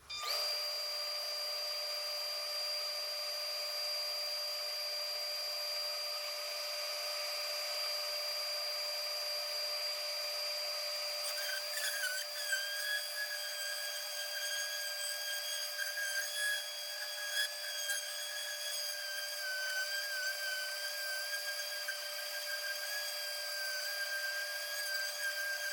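A power sander whines steadily for a long stretch, with a high tonal hum and rougher scratching as it works across the wood of a cajón, no voices.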